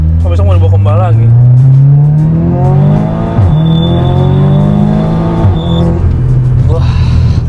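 Audi S3 Quattro Stage 4 accelerating hard, its engine note climbing through rising pitch sweeps with a gear change, loud and close, while people talk over it.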